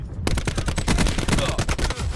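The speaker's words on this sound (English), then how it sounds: "Gunshot." Rapid bursts of video game gunfire crackle loudly and continuously, like automatic weapon fire, with faint voices underneath.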